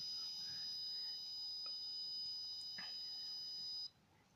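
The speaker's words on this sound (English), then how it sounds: "as soon as I press the switch, you will hear the buzzer buzzing" An Arduino MQ-2 gas sensor smoke detector's buzzer sounds a continuous high-pitched electronic tone, triggered by a lighter, holding steady for about four seconds before it cuts off, with faint clicks beneath.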